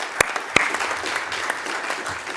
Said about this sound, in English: Well, that deserves a round of applause.